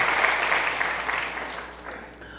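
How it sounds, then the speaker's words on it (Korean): Church congregation at a Sunday service applauding the choir: a dense wash of many hands clapping, steady at first and then gradually fading softer toward the end. "찬양대에 박수 한번 하시죠"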